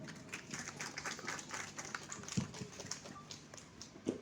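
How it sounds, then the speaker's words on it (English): Scattered applause welcoming a guest at a Teachers Day celebration at Ali Public School, Tumkur, faint irregular claps from a small audience, thin and uneven throughout. "So I would like to welcome him with a big round of applause."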